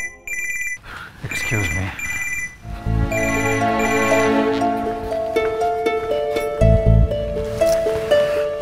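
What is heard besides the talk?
telephone ringing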